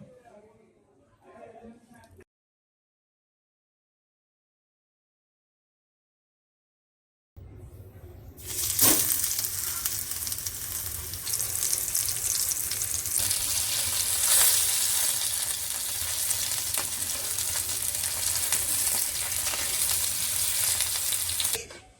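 Ravas fish coated in green masala frying in hot oil, Maharashtrian style: after a quiet, near-silent start, a loud, steady, close sizzle fills the rest, with occasional louder pops.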